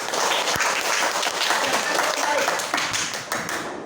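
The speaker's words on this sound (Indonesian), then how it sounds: "Tepuk tangan untuk kita semua." Audience of teachers clapping hands together in a room, a dense, steady round of applause with sharp individual claps standing out, loud and continuous throughout.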